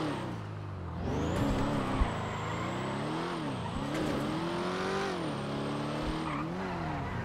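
A car engine in the video game GTA 5 revs continuously, pitch rising and falling in repeated waves, with a steady high whine above; loud and close, no voices.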